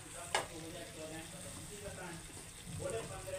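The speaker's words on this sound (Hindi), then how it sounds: "अब इस तरीके से हम इसे दो मिनट ऐसे भून लेते हैं, हल्के हल्के हाथ से चला के इसे भून लेते हैं" Malai seekh kebab gravy with spices gently roasting in a pan on the stove, a soft continuous sizzle and fry with light stirring, close and fairly quiet throughout.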